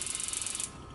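Automatic igniter on a gas oven clicks in a rapid, even ticking series for about two thirds of a second before stopping, close by, with no speech over it.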